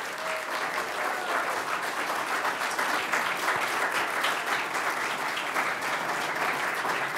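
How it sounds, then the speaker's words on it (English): A crowd at a university business pitch competition applauds the evening's contestants, steady and fairly loud clapping that runs continuously without a break. "Give a round of applause for our contestants for tonight"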